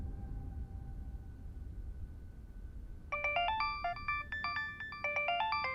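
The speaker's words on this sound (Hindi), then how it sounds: "भाई साहब, अजमेरिया साहब का फोन है" A low hum gives way midway to a bright, looping electronic ringtone melody, repeating its rapid pattern loudly.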